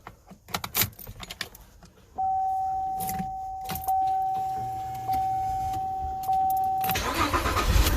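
A 2006 Cadillac CTS 3.6 comes to life after a few clicks and key rattles: the starter cranks briefly, then the engine catches and settles into a steady close idle, revving up sharply at the end.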